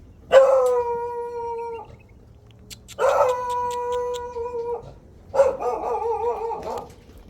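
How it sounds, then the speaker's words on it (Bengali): Dogs on a goat and cattle farm in Dubai give three close, drawn-out howls, each lasting one to two seconds. Short pauses separate the howls, and the last one breaks into rougher, bark-like yelps. "এখানে কুকুরও আছে"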